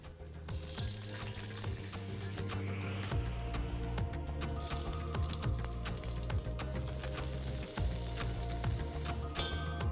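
Potatoes for a spicy vegetable dum biryani frying in a pan, a constant close sizzle and spatter over a steady low background hum, with scattered clicks and stirring sounds and no speech.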